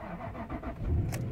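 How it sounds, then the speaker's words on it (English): A 2004 Jaguar XJ8 Vanden Plas starting from cold in a school parking lot: a short burst of starter cranking, slow and laboring, that swells into the engine catching, heard up close with no talking. "let's see how slow the engine starter turns"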